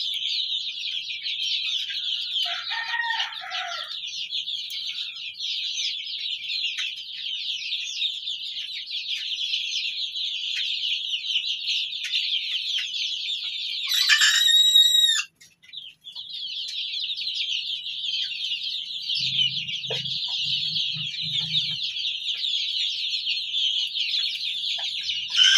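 Farm chickens peck at fresh leaves, keeping up a continuous chatter of close clucks and chirps with a sharper squawking burst partway through and a few soft low thumps later.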